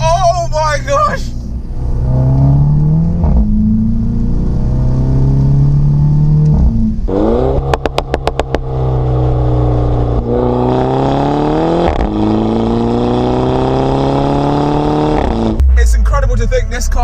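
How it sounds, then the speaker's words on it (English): A Mini Cooper S Convertible with a 2-litre four-cylinder engine and Remus catback exhaust revs repeatedly, rising and falling loudly, with a few sharp crackles on the overrun and someone talking over parts of it. "And then the pops and bangs on the overrun."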